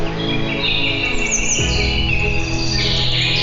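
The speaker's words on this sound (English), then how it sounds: "animals and birds chirping is not working for me" Jungle nature soundscape of birds chirping and calling, layered tweets and whistling calls over a dense steady background, fairly loud and continuous.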